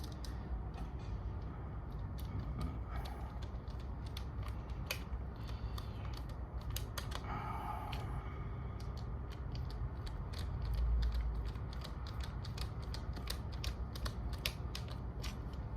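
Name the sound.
tightening screws on a DIY generator plug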